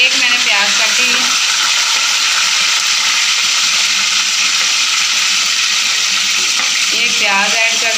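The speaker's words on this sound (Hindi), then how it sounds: "तकरीबन 30 सेकंड तक हमने इसे फ्राई करना है" Loud, continuous frying sizzle fills a pan as a spoon stirs the contents, with a voice faintly heard at the start and end.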